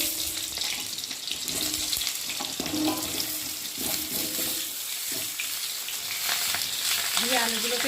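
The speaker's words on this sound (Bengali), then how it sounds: "আলুগুলোকে একটু ভেজে নেব" Cut potatoes frying in hot oil for a vegetarian aloo dum, a steady broadband sizzle running throughout with occasional stirring clinks, close and moderately loud with no talk.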